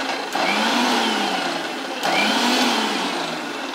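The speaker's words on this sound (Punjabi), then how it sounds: "ਆਪਾਂ ਨੇ ਇਹਨੂੰ ਬ੍ਰੇਕ ਦੇ ਕੇ ਜੀ ਮਿਕਸੀ ਨੂੰ ਚਲਾਉਣਾ ਤਾਂ ਕਿ ਸਾਡੀ ਮਿਕਸੀ ਵੀ ਖਰਾਬ ਨਾ ਹੋਵੇ" A kitchen mixer grinder whirs loudly and close while grinding guava chutney, running in two short bursts with a brief dip between them and a steady high whine.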